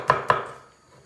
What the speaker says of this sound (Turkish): Elinizde hangi biber varsa ondan doğrayabilirsiniz.